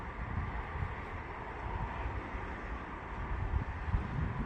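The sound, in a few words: strong wind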